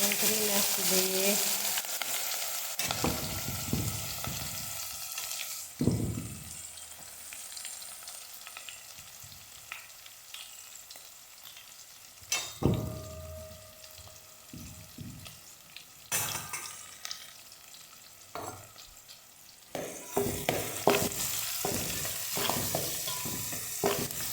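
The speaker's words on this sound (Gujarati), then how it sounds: "જો રાય જીરું વઘાણી નાખી દીધા લીમડો લીમડો નાખ્યો" Mustard seeds, cumin and curry leaves frying in a hot tempering give a long, close sizzle and crackle with occasional louder bursts and stirring clatter, rising and easing over some twenty seconds without speech.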